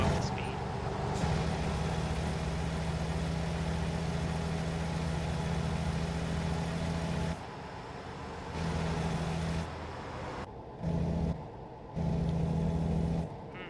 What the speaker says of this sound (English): Let's see what it sounds like now that I'm up to speed.